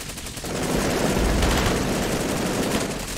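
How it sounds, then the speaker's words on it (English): An automated turret in the video game Cepheus Protocol opens fire in a sustained, rapid burst that fills the clip after a brief quieter start, loud and continuous with no talking over it. "that turret is firing"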